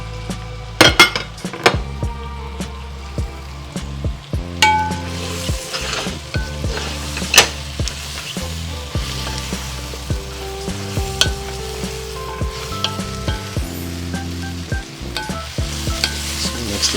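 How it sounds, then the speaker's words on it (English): Mixed vegetables such as carrots sizzling steadily in a hot pan for South Indian sambar, with a spoon repeatedly scraping and clinking against the metal as they are stirred, close and continuous. "So just drop in all your vegetables together."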